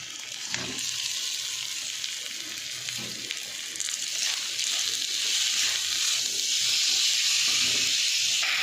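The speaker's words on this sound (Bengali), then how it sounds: "আমার মশলা কষা হয়ে গেছে" Tomato and spice masala with salt, turmeric and chilli powder sizzles steadily in a pan, a constant bright frying hiss with soft stirring scrapes underneath, close and continuous with no talk.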